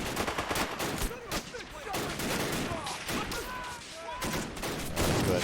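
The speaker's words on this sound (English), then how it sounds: "AT rounds going down range, trying to hit some of those tanks." Dense battlefield gunfire from the Men of War: Assault Squad video game, with anti-tank rounds fired at tanks amid rapid overlapping shots and bursts, loud and continuous with a voice talking underneath.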